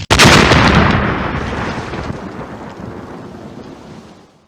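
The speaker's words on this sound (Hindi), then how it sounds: "कान फाड़ देने वाला धमाका हुआ" A deafening explosion effect in a Hindi audio drama, a sudden loud blast that rolls into a long rumbling decay over several seconds, heard alone.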